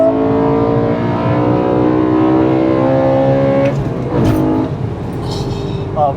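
A BMW E92 M3 engine revs hard from inside the cabin, a loud climbing engine note that holds and then drops off, with brief voices near the end.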